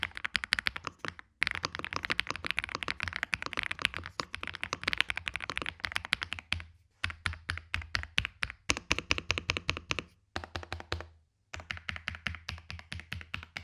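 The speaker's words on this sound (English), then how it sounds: "These are true jade mechanical switches." Rapid clacky typing on a full-size mechanical keyboard with jade switches, dense bursts of keystrokes broken by short pauses, close and clear with no talking.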